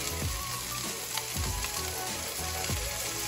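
Spicy bell peppers fry in a pan over a low gas flame for veggie fajitas, giving a loud, steady, close sizzle with a few soft stirring scrapes.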